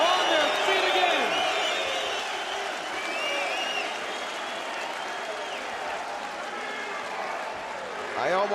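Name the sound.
arena crowd cheering and chanting at MMA fight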